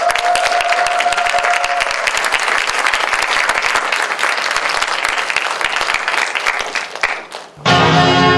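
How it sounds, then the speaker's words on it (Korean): An audience applauds loudly and steadily for several seconds, the clapping dense and continuous before it tapers off and music begins. "여러분들 큰 박수 부탁드리겠습니다"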